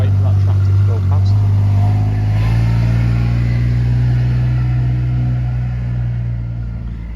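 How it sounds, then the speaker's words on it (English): A tractor drives past at a beehive site, its engine a steady low rumble that is loud at first and slowly fades as it moves away. "I'll just wait for that tractor to go past."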